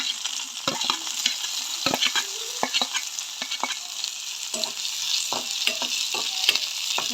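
Chopped onion and green chili sauté in oil, a soft sizzle broken by frequent scraping clicks of a spoon stirring against the pan.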